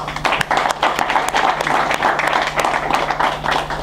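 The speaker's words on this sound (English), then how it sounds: "I think Vishal deserves a round of applause for this" Audience applause at a stage presentation, steady dense clapping for about four seconds at even loudness, with a low hum beneath.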